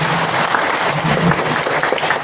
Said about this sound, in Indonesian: Guys, tepuk tangan satu dua.